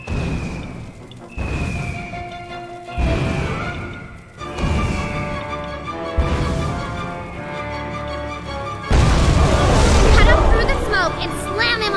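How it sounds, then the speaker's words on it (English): Missiles explode in the video game Puppeteer during a boss fight, several booming blasts with whooshes arriving at irregular intervals, mixed with game voices and music. "Firing missiles. Above you! Dodge them all!"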